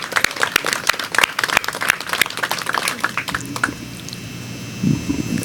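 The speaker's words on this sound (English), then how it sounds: "Let's give them a round of applause" A round of applause from a crowd at a mayoral press conference at a New York police precinct, greeting a Crown Heights community group; dense clapping for about four seconds, then it fades into room noise and a brief low thump.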